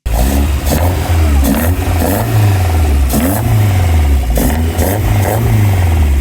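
A fully built, naturally aspirated car engine with individual throttle bodies revs hard and repeatedly, rising and falling in sharp bursts with a raspy, high-pitched throttle bark, loud and close throughout.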